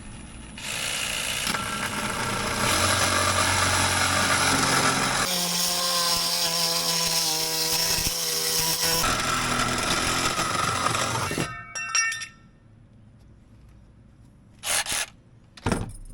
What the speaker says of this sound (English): medium metal bits, brand new. And I got my mark here. We are just gonna hold it. And we're gonna cut.